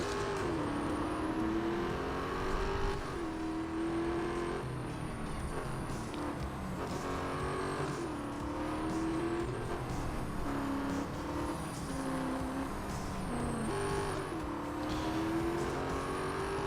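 A Dodge Challenger races in Real Racing 3, its engine revving up and down in repeated rising sweeps as it shifts gears, steady and close with no voices.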